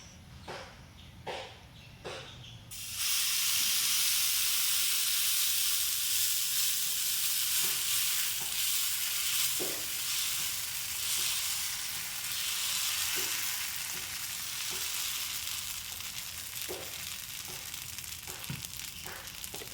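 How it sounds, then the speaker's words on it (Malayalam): Dosa batter poured onto a well-heated dosa griddle bursts into a loud, steady sizzle after a few quiet seconds of clinks, the hiss continuing with occasional scraping taps close by. "ദോശക്കല്ല് നന്നായി ചൂടായുണ്ട് അതിലേക്ക് നമുക്ക് മാവ് ഒഴിച്ചു കൊടുക്കാം"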